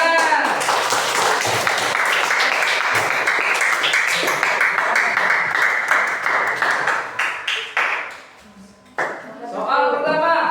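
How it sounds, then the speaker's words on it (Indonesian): Students in a sixth-grade maths classroom clap together in steady, dense applause that thins out and trails off near the end, with a brief burst of voices afterward. "Tepuk tangan."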